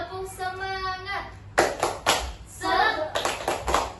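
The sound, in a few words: children doing 'tepuk semangat' clapping chant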